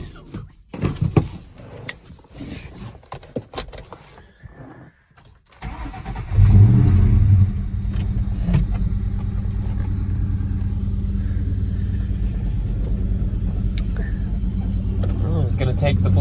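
Yellow Ford Mustang GT out in the rain: someone talks at first, then the V8 engine starts with a loud burst and settles into a deep, steady rumble that continues for the rest of the clip.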